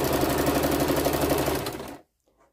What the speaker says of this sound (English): this is just simple sewing little ones together, little squares